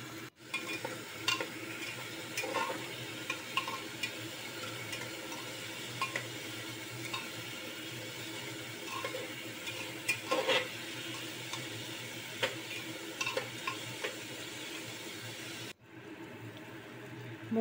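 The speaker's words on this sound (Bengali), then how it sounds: "নিয়ে মুগ ডালগুলো ফ্রাই করব।" Moong dal frying in a pan with bay leaf, a quieter continuous sizzle dotted with light scraping and clicking stirs throughout, cutting off abruptly near the end.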